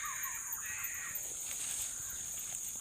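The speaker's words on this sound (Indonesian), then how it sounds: "Burung gagak ya." A crow caws outdoors during a pigeon hunt beneath a fruiting banyan tree, its harsh calls rising over a constant high insect drone, with no voices.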